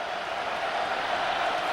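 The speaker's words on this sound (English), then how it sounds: "Here comes the crowd noise, trying to make it tough on Canfield" Steady crowd roar fills a college football stadium during the 2009 Civil War game, Oregon State at Oregon, a dense continuous wash of many voices holding level and slightly swelling, with no distinct talk.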